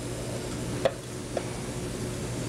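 Sliced onions added to whole butter in an already hot pan for French onion soup, a low steady sizzle after a sharp clank as they land, with no voices.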